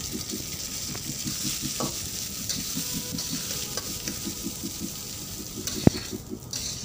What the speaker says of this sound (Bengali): চাল ডালটা হালকা ভাজা হয়ে গেছে